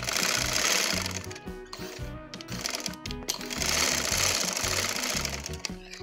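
Sewing machine stitching the cuffs of a child's dhoti salwar, a loud continuous mechanical whir in rapid runs with a brief pause near the middle, no talking.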